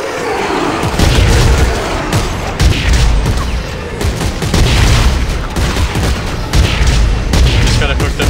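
The base cannon fitted with an electric mod fires in Dead Space 3, loud booming bursts that come in quick succession over a constant din of heavy game combat noise.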